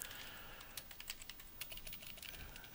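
Fingers tap out a short burst of typing on a computer keyboard, quick irregular clicks close to the microphone at low level, with no talking.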